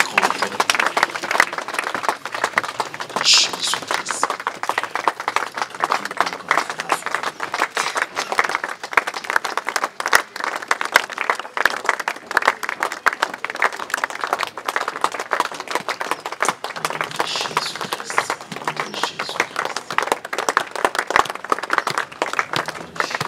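A church congregation applauds at a church inauguration, steady dense clapping sustained throughout with crowd murmur beneath, loud and close.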